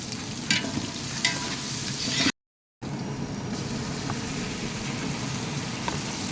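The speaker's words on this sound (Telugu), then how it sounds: "ఉల్లిపాయలు త్వరగా ఎగటానికి కొంచెం ఉప్పు వేస్తున్నాడు" Onions salted and frying in a pan for prawn biryani give off a continuous close sizzle under occasional stirring clinks, with a short silent gap in the middle.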